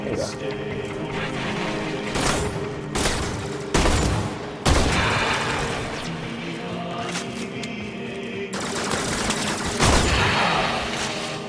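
Shotgun fire in the video game Warframe, a series of loud, heavy blasts spaced a second or two apart over continuous game noise, with someone talking throughout.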